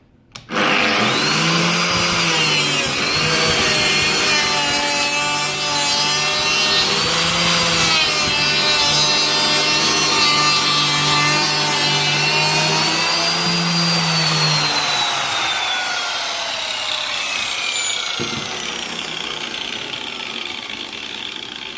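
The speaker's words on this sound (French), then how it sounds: "Là je vais faire une rainure arrêtée du coup." A Lamello biscuit joiner cuts a stopped groove into wood with a loud, close, high-pitched motor whine that wavers under load, then winds down in a long falling spin.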